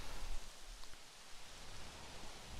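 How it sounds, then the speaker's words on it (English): Steady rain falls in the dinosaur park management game Jurassic World Evolution, a soft, even wash of hiss that stays unbroken and faint with no talking over it. "And now it's raining."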